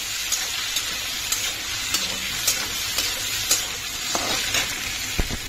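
Potato chowmein stir-fried in a pan, a steady sizzle with regular scraping clicks of the spatula every half second or so, close and moderately loud, with no talking.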